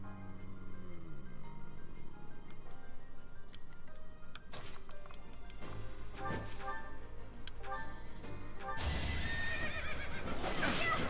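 A horse whinnies in the Fire Emblem video game over busy game music and effects, followed by a loud burst of noisy impact sounds near the end.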